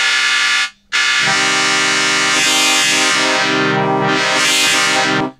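A harsh, buzzy wavefolding note from the Arturia Pigments soft synth, with bright, folding overtones that sweep up and down, briefly cutting out near the start, played alone.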